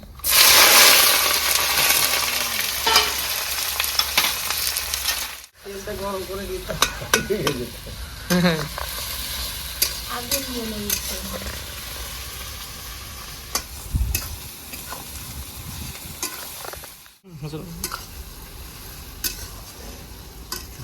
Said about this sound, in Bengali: তেলটা খুব গরম হয়েছে সঙ্গে সঙ্গে পেঁয়াজটাও দিয়ে দেবো কেটে রাখা